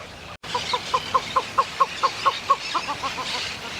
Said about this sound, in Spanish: las gallaretas escudete rojo se anunciaban con su voz